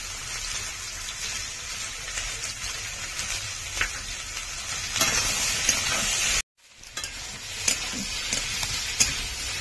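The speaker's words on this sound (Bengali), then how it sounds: "দিয়ে আমি ভালো করে কষে নেব।" Rui fish is stir-fried with snake gourd and potato, giving a quiet continuous sizzle with scattered stirring clicks and a brief cut to silence partway through.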